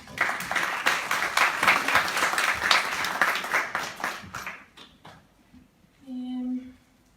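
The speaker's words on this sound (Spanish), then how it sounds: "Un fuerte aplauso para ella." An audience applauds a speaker introduced as having worked on a Japan documentary, the clapping loud and steady for about five seconds before fading, followed by a brief tonal hum.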